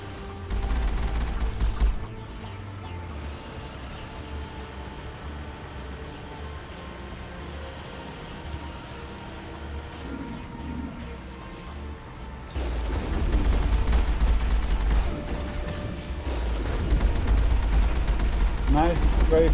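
Sustained video game gunfire from Mass Effect rumbles under a dense wash of combat noise, with heavy low-end bursts near the start and end.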